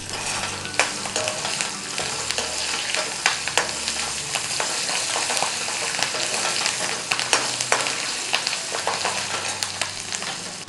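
Tempering spices with dried red and green chillies sizzle and crackle steadily in hot oil while a spoon stirs them, giving occasional clicks over the constant frying hiss.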